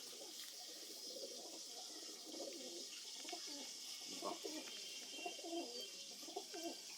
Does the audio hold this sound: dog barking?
no